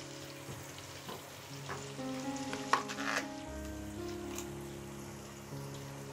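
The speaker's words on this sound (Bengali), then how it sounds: "পেঁয়াজটাকে আমি 2 মিনিটের মতো ফ্রাই করে নিচ্ছি।" Onions fry in a pan with a faint, steady crackling sizzle, a few stirring taps near the middle, and a low background hum throughout.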